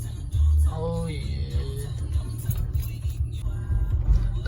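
A car drives along a road with a low, steady engine rumble and road noise from inside the cabin, plus a brief tonal squeal near the start.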